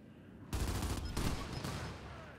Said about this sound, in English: You hear those flashbangs starting to come in